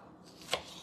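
A knife chops through a red tomato on a board, one sharp, close cut standing out against a quiet kitchen background.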